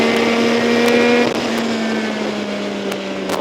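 A car approaches on the road while riding fast on a Yamaha MT-09 motorcycle; a loud steady engine drone and wind rush fill the clip, with a pitch shift midway as the vehicle passes.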